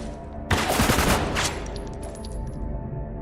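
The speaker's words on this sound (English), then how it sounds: "They gun down McPherson." Squad mates in Spec Ops: The Line fire a TAR-21 rifle and an M249 machine gun at McPherson. One loud, rapid burst of gunfire lasts about a second, then fades into a lingering ringing tail.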